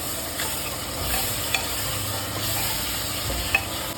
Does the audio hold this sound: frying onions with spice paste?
yes